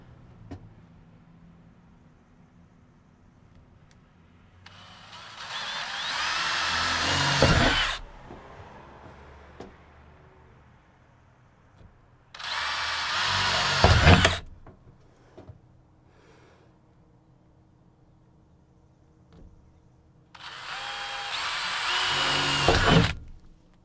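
Power drill bores holes into a metal van ceiling in three separate runs of a few seconds each, a loud close whine with a grinding edge, separated by quiet pauses of faint shuffling.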